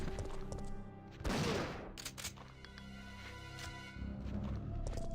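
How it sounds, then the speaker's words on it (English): Gunshots in Resident Evil 3 inside the RPD building: one loud, sharp blast followed by a couple of quicker cracks, with game ambience and low rumble in between. "I'm just shooting things for fun."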